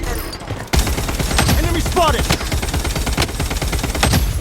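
Rapid gunfire in the shooter game Blood Strike, dense, loud bursts of shots following one another almost without pause, with sharper cracks standing out from the steady barrage.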